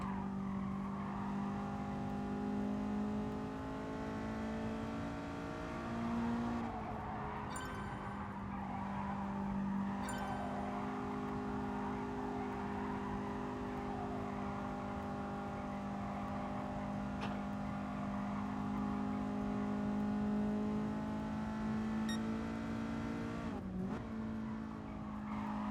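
Honda Civic Type R racing in Gran Turismo Sport, a steady engine drone with rising and falling gear pitches and occasional tire squeal, fairly faint and continuous with no talk.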